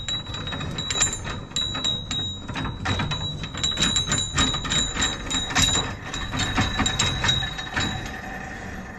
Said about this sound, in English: Screw your big nut on here